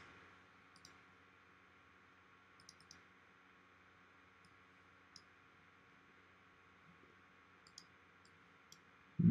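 Faint, sparse computer mouse clicks over a quiet hiss of room noise during AutoCAD work, arriving as single and double taps spaced irregularly a second or two apart.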